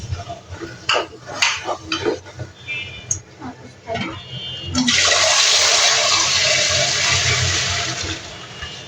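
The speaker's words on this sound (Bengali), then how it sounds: "পানি দিতে সাগর বানায় আনাইলো, আমার চুলার মধ্যে পানি হারাই" Water poured from a vessel into a pot of spicy chicken biryani on a stove, a loud steady rushing gush after some clattering of utensils and muffled talk in a home kitchen.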